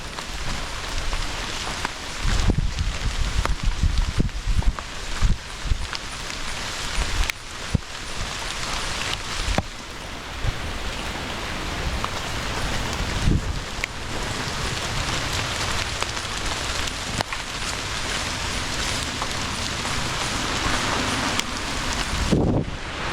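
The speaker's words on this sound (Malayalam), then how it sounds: "മഴ നന്നായിട്ട് പെയ്യുന്നുണ്ട്" Heavy rain falls steadily on a forest eco-tourism trekking trail in Kerala, a dense continuous hiss with gusty wind buffeting the microphone, loud and close throughout, without any talking.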